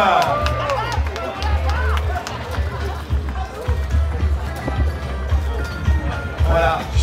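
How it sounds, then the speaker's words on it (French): Spectators at a sailing race finish applaud sailors Charles Caudrelier and Erwan Israël on the podium, a continuous rattle of clapping under a low rumble with an announcer's voice and crowd noise on top. "des applaudissements du public, s'il vous plaît"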